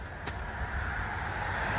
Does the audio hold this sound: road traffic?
yes